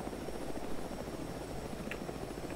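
Mi-8 helicopter in the video game Squad, a steady close rotor and engine drone with a constant whine, loud and unbroken for the whole moment.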